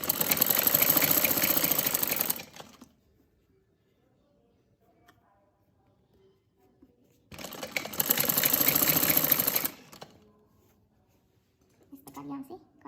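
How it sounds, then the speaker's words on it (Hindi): A sewing machine stitches a frock suit in two loud, steady bursts of about two and a half seconds each, separated by near silence with faint handling sounds, ending with a brief softer rattle. "सिलाई लगा देंगे।"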